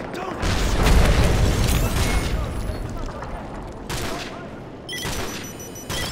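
Heavy cannon booms and rumbling explosions from Russian tanks firing on a position in a Call of Duty: Modern Warfare 3 battle. A loud, dense barrage early on fades to softer blasts, with a fresh, sharp burst near the end.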